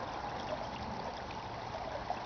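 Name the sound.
stream water trickling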